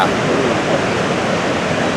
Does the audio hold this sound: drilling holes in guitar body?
no